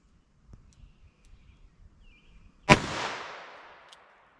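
A single loud shot from a Ruger LCR revolver with a 1.875-inch barrel firing a .32 S&W Long round outdoors, preceded by faint shuffling and followed by a long echoing decay.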